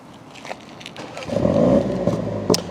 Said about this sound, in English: Can we please start the car up?